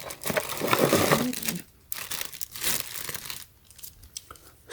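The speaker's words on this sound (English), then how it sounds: "Take out this cardboard." Cardboard packing pulled from the box of a dual-head LED motion sensor security light: close, loud crinkling and tearing rustles in uneven bursts with brief pauses.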